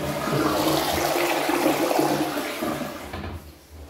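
A newly installed toilet flushing close by, a loud rushing gush of water that fades slightly toward the end as the tank refills.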